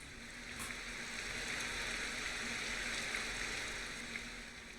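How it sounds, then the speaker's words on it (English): A steady, dense hiss of rain pours down without pause, even and enveloping, with no voices. "you'll hear the rain become more intense"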